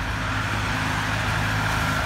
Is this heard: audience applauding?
no